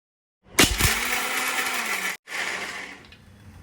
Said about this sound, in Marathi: सर्व एकत्र मिक्सीला थोडं जाडसर फिरवून घ्यायचं